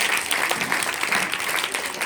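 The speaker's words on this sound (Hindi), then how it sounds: "तो उस बच्ची के लिए जोरदार क्लैपिंग, जोरदार ताली।" Loud audience clapping at a Republic Day event, a brisk, dense patter of many hands, steady and close for the whole stretch.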